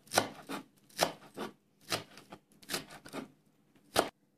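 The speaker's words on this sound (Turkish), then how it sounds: "Şimdi taze soğanlarımızı doğruyoruz." A knife chops fresh green onions on a cutting board for egg salad, close, crisp rhythmic clusters of quick thuds in short bursts separated by brief pauses.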